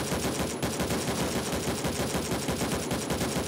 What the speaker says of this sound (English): this dude's firing like mad at me